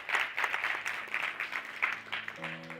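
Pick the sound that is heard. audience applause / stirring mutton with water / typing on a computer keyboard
audience applause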